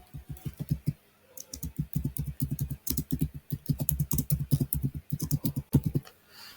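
Rapid typing on a computer keyboard while building a WordPress page, with dense, close, crisp key clicks coming in quick bursts and short pauses between them, heard alone with no talking.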